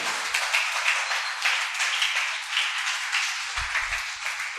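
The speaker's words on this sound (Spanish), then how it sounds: "Dale un fuerte aplauso al Señor." A church congregation applauding during a worship service, a broad, even wash of clapping sustained throughout at a moderate distance.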